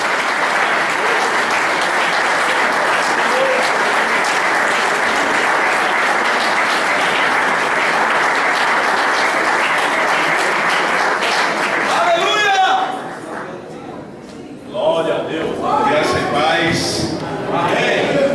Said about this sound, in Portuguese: você aplauda ao Senhor Jesus, bem forte nessa noite